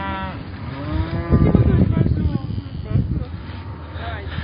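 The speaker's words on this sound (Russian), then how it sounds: "Кругом коровы, быки, десятки, сотни." Herd of cows and bulls at a Russian rodeo: deep, drawn-out moos ring out near the start, then someone talks over the continuing lowing and bustle of the crowd.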